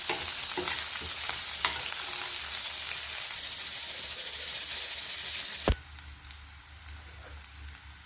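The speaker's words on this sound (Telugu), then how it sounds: "కొంచెం కరివేపాకు యాడ్ చేసి కొద్దిసేపు మగ్గనివ్వాలి." Crushed garlic and curry leaves frying in a pan of oil for a cucumber dal, a loud close continuous sizzle that drops abruptly to a faint low hiss near the end.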